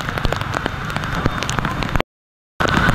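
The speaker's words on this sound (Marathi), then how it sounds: "फुल पाऊस आहे सुरतमध्ये आज." Heavy rain pours down in Surat, a dense steady hiss of drops drumming on surfaces close by, briefly cut to silence before the downpour resumes.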